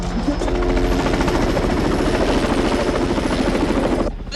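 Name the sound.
helicopter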